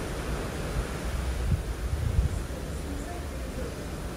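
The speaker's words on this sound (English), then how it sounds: "Just listen to that ocean as we're going by." A steady, broad rush of ocean water sweeps past a moving cruise ship, Icon of the Seas, with a dull rumble underneath and occasional faint splashes, continuous and fairly close.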